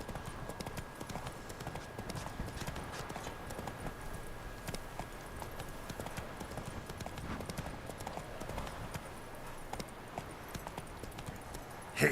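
Roach the horse clip-clops steadily over ground in The Witcher 3, a continuous rhythmic patter of hooves at moderate loudness with faint background ambience and no talking.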